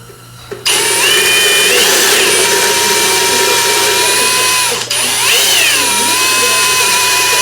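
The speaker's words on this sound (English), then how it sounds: "This needs to be drilled." A power drill works on a 1987–93 Mustang 5.0 engine during intake and distributor removal. It runs as a loud, steady motor whine that revs up twice in swells, starting abruptly after a brief quiet lead-in.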